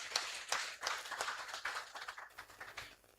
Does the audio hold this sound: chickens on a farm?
no